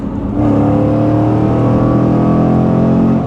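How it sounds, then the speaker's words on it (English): Supercharged V8 of a 2024 Jaguar F-Pace SVR rises into a loud, sustained rev after a brief quieter start, a dense, steady roar held close by for a few seconds with no talking. "rouse the beast of the supercharged V8. Did you hear that?"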